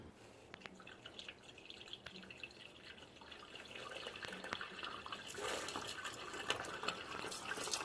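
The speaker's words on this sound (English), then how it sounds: "the surge of water come down here." Water surging down a kitchen sink drain, faint trickling and dripping at first that builds into a louder, hissing rush of flowing water in the second half.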